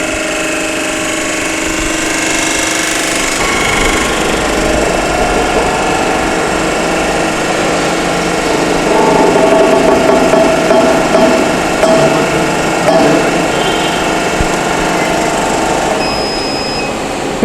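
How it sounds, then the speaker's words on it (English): A hydraulic jack drives a compression testing machine crushing a cement mortar sample, giving a loud, steady mechanical whine and hum that runs throughout, growing slightly stronger midway, with no talking. "Give a start command of your hydraulic jack and run the setup."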